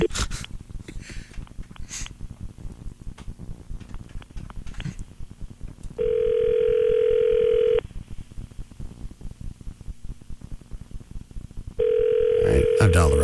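Touch-tone telephone tones sound during a call: a steady tone plays for about two seconds in the middle and returns near the end. Between them there is a busy stretch of talk and background noise.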